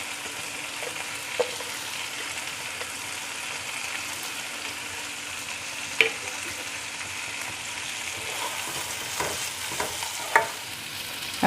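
Capsicum pieces and slit green chillies stir-fried in a pan: an even, continuous sizzle for several seconds, with occasional spatula scrapes and taps that come more often toward the end.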